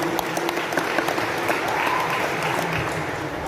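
An audience claps steadily for a speaker at an Indonesian gathering, a dense, even round of applause from a mid-distance crowd with no voices over it.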